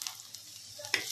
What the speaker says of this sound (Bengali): তেল গরম হয়ে গেছে, আগে রসুনটা দিয়ে দিলাম